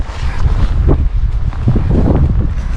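Wind buffets the microphone on a rainy walk along wet streets near home, a loud, low rumbling gust noise that swells and dips throughout with faint rustling mixed in.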